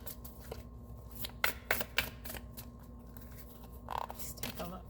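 Tarot cards being shuffled in a few quick riffling bursts, crisp papery flutters of matte cardstock close by, with quiet gaps between them.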